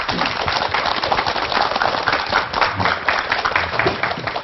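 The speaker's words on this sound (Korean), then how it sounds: "박수로 앞으로 모실까요?" A studio audience on a Korean morning television show claps to welcome guests, dense continuous applause filling the room at close range.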